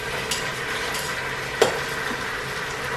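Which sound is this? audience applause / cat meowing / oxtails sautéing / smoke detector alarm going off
oxtails sautéing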